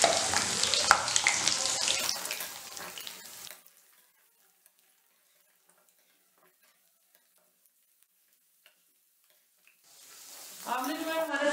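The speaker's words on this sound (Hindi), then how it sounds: "आंवले जो है हमारे फ्राई हो रहे हैं" Amla, Indian gooseberries, fry in oil in a pan for an instant gooseberry pickle, a loud crackling sizzle with stirring scrapes for about three seconds, then near silence, before clattering returns at the end.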